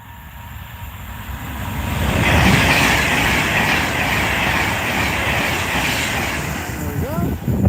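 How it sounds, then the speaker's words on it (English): A Pendolino train rushes past on the West Coast Main Line, close and loud, building to a sustained roar with rhythmic wheel clatter and a brief squeal at the end. "First one of the day, Pendolino there"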